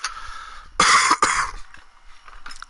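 A person coughing while sick with a stuffy nose and hiccups, two sharp close coughs in quick succession followed by faint throat noises.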